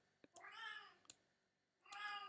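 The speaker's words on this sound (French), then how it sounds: "Faites pas attention, c'est un chat" A cat meows twice inside an apartment, each cry long and drawn out, close and fairly clear, with a few sharp clicks and knocks between the two calls.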